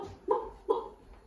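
A turkey call imitates a wild turkey hen's cackle: two short, sharp, close clucking notes in quick succession, loud and alone.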